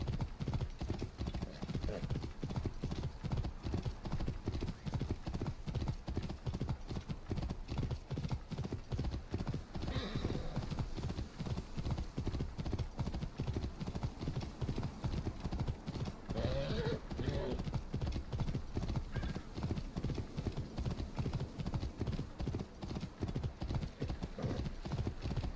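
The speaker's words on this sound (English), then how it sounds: "A damn good horse. Able to keep up that pace for a long time." A horse galloping in a video game set in ancient Egypt: a rapid, steady drumming of hooves that keeps up for a long stretch, moderately close, with brief faint rustles and no voices.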